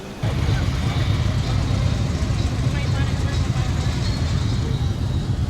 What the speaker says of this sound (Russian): Много мотоциклов, не знаю, что сходка байкеров какая-то сегодня